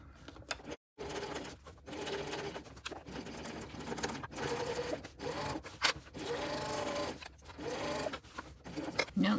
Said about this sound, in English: as you sew this lining side seam, that it is not a straight line that you're sewing